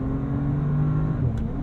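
A 2022 Bentley Continental GT Speed accelerates, a steady, close engine drone with no one talking.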